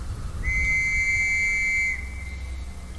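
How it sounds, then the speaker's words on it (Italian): A single steady whistle blast, shrill and sustained for about a second and a half, rings out over a low rumbling background in a World War One trench video game. "Usa il fischietto per seguire il suono"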